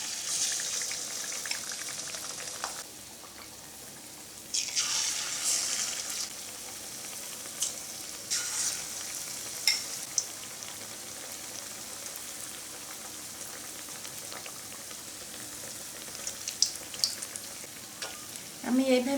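Raw potato chops coated in batter frying in hot oil, a close, steady sizzle that jumps louder each time a new chop is dropped in, with occasional pops and stirring clatter, no voices.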